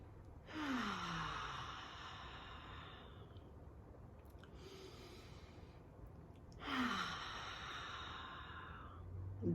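A person takes two deep, long breaths, each a drawn-out airy inhale followed by a slow exhale, close and clear with a quiet pause between them.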